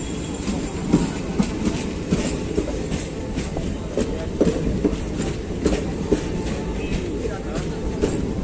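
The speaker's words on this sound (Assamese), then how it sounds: "এখন ট্ৰেইন এতিয়া আমি উঠিম এখনত, চিফুং এক্সপ্ৰেছ।" The Siphung Express arrives and rolls along the rails with a loud, steady rumble, rhythmic clickety-clack from the wheels and occasional squeals, close by.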